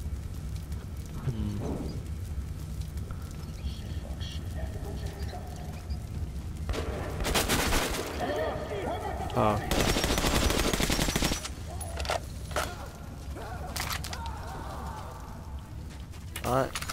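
Heavy gunfire in Metro Last Light Redux, with loud bursts of shots around the middle of the clip over a steady game background and occasional talk.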